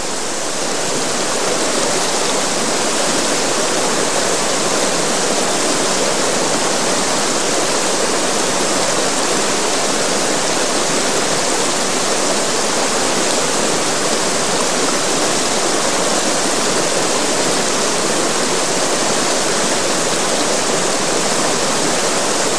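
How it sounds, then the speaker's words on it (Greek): Rushing river fed by large springs, a dense steady roar of water that stays loud and unbroken throughout, with no voices. "Στη διαδρομή μας συναντήσαμε μεγάλες πηγές να τροφοδοτούν το ποτάμι με τα πλούσια νερά τους."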